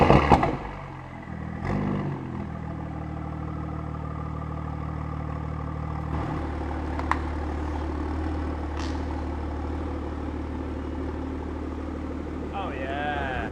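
A BMW Z4 M40i with a Valvetronic Designs full exhaust and downpipe gives a short rev, then settles into a steady deep drone with a low rumble, while someone talks over it.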